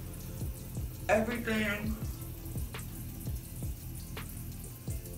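Tap water running into a sink as makeup is rinsed off hands, a soft splashing stream with light drips, while someone briefly speaks over it.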